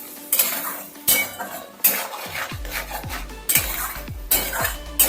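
A spoon stirs a cashew, ginger and tomato paste with onions in a pan over a medium flame, giving loud repeated metallic scrapes and clinks in an uneven rhythm over a soft sizzle.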